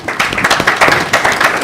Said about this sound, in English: can clap for him.